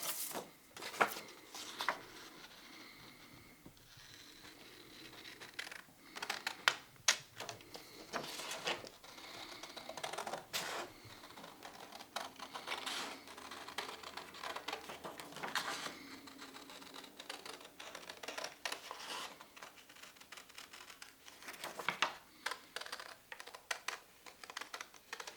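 Scissors cut through leather for a moccasin pattern, giving a long run of close, crisp snips and clicks in uneven bursts, with small shuffling handling noises between them and no talk.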